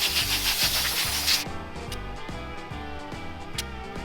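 Steady back-and-forth rubbing as Bondo body filler is scraped and sanded out of welds on a car body, loud at first and then quieter and rhythmic.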